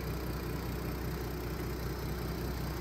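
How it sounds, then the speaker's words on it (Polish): An Audi TT 8J with the 3.2 VR6 engine sits idling, giving a steady, even low rumble with a faint regular pulse that stays constant throughout at moderate distance. "To jak on brzmi, to jak ten silnik współgra z tym samochodem"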